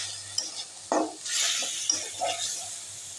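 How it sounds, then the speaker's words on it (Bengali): Spice paste with turmeric, coriander, salt and a little chili powder being stirred in a pan for a fish-head curry, with soft sizzling and scraping stirs and a few light utensil clinks. "এবার মশলাটাকে সুন্দরভাবে কষিয়ে নেব।"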